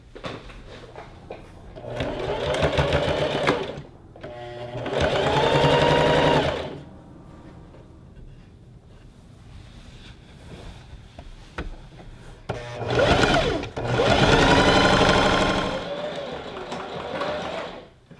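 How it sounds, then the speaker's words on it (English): Sewing machine stitching the sides of a skirt together, loud close whirring bursts of rapid mechanical stitching separated by pauses and small handling clicks. "we got our two sides sewn together"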